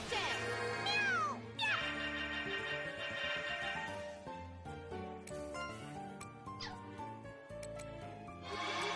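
Cartoonish cat meows in a video game, a sliding high-pitched mew near the start with a second brief call after, set against busy game music and effects throughout.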